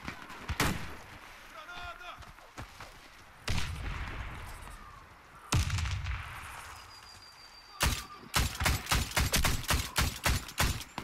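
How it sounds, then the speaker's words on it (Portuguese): MK14 semi-automatic rifle firing in the shooter game Warface, sharp single shots early and a fast rapid string of loud cracks at the end, with ambient game noise and a player talking between bursts. "Porque eu dei um tiro nele e ele morreu."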